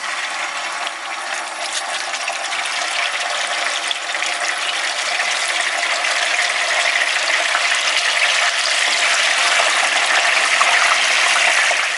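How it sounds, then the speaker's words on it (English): Continuous loud sizzling and crackling of fish frying in hot oil, a dense hiss that holds steady and builds slightly throughout. "Over here, I'm just frying the fish"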